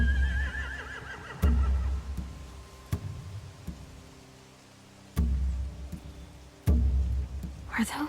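Horses neigh and whinny in The Walking Dead video game, a wavering call early on followed by sharp bursts and snorts, with low rumbling ambience between them.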